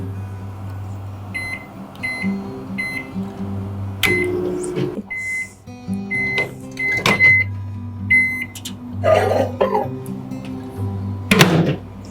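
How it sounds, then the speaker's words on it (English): A microwave oven warming milk on high power hums steadily with intermittent clicks, thunks and short beeps over the run, close by and with no speech. "I am going to microwave on high power, which is the default setting"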